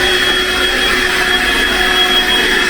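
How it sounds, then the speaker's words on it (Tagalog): A Makita 18V cordless cyclonic stick vacuum (DCL286) runs on high, a steady, loud whirring whine with a constant motor tone and no pauses. "Kita mo vacuum siya."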